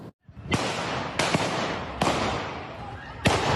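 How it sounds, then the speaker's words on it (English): Four sharp gunshots ring out about a second apart, each a loud crack trailing into a rough, echoing tail. "The sound of gunshots prompts a flurry of panic."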